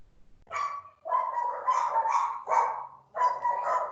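Several dogs bark repeatedly in short excited bursts at a workshop, loud and close, one after another with brief gaps.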